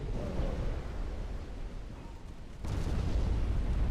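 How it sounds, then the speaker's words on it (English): Torpedo hits on a German warship in the Ultimate Admiral Dreadnoughts naval game come through as heavy, rumbling explosions, one sustained roar followed by a sharper, louder blast near the end. "we are taking multiple torpedoes here"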